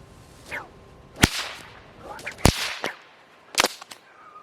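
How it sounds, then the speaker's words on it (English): Two whips crack in a slow two-handed figure eight, giving sharp, loud snaps spaced about a second apart, each with a brief swishing whoosh of the lash before it. "You need to learn to keep your whip in a straight line as it's cracking alongside you."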